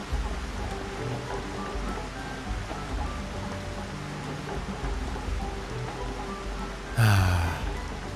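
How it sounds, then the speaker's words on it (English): Gentle rain patters steadily on a roof in the Xenoblade Chronicles HD video game, a soft continuous wash of drops with a brief louder burst near the end. "there's something about that just really gentle pitter-patter of rain that's hitting the roof of something"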